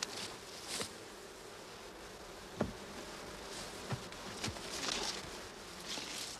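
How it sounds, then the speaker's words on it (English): Buckfast honey bees swarm around an open hive during a brood inspection, giving a soft continuous buzz with individual bees passing close, plus a few light knocks and rustles. "These Bakfast bees display great uniformity of colour"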